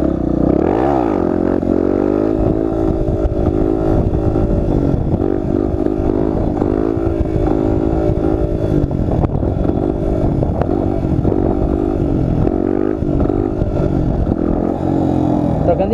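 A Yamaha Lander 250 motorcycle engine roars loudly and steadily during a wheelie, rising and falling in pitch as it revs and shifts through gears, close and dominant throughout.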